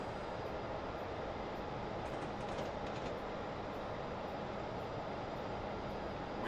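A diesel freight locomotive hauling an LPG tank train, its engine held at 550 RPM while climbing a 1 in 143 gradient in a train simulator, gives a steady, dense rumble that drones on evenly without a break.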